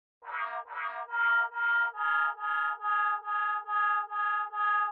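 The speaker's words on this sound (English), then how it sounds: "we have another background lead, which is from Purity, and it's the YVA lead" Purity plugin's YVA synth lead in a new wave pluggnb beat, a bright tone repeating short evenly spaced pulsing notes over a sustained low note, clean and alone with no talk.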